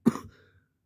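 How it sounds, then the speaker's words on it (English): A single short cough sounds close and sharp, then trails off quickly into a faint throaty tail. "Sorry for that cough."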